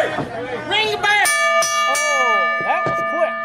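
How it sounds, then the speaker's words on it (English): A wrestling ring bell rings repeatedly to end a match at a live event, sharp metallic clangs with long ringing overtones over crowd chatter and a voice talking. "Ring the bell."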